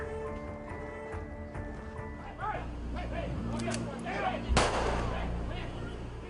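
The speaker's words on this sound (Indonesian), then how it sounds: "Tembakan peringatan berulang kali dilepaskan tim Satuan Gerak Cepat" A sharp, loud bang of a warning gunshot rings out in West Jakarta over a noisy background of murmuring crowd and rumble, with fainter thuds around it.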